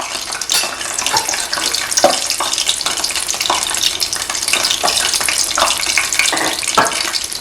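Rice appam batter poured into hot oil for soft arasi appam sizzles and fries with a steady, dense crackle, punctuated by sharper spits and bubbling pops, close up and with no talking.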